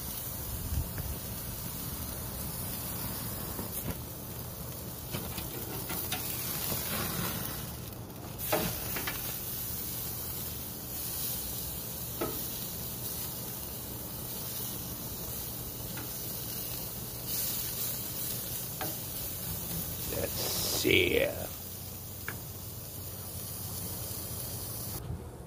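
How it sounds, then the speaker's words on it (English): T-bone steaks searing over high heat, a faint steady hiss and sizzle with a few brief clatters, no talk. "got those steaks seared, got those burn lines in there"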